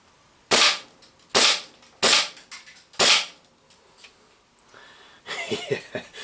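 Five sharp gas blowback shots from a G&G SMC-9 airsoft SMG, spaced about a second apart and loud and close, followed by a quieter scattered clatter of small impacts.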